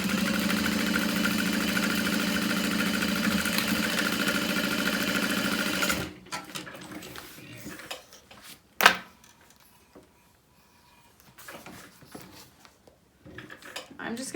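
A sewing machine runs a continuous half-inch seam on handbag side panels, a steady close mechanical hum for about six seconds, then stops, followed by handling clicks and a sharp knock.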